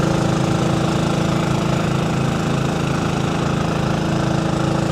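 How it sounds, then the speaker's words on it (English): A transfer pump on a milk tanker runs while pumping milk out, giving a loud, steady mechanical drone with an even pulsing throb that holds unchanged throughout. "We have the transfer pump going."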